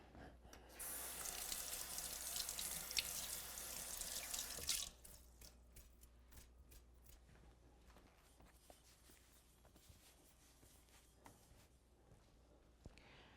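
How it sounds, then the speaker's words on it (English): A tap runs into a sink for handwashing, a close steady splash of water for about four seconds before shutting off, followed by faint drips, rustles and light handling noises. "I'm going to wash my hands."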